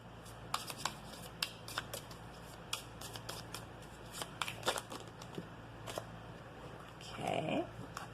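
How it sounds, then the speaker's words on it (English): Oracle cards being shuffled by hand, a run of crisp riffling snaps and flutters with short pauses between, close and fairly quiet, with a brief louder rustle near the end. "now we're going to take a couple cards from the Insight Oracle deck"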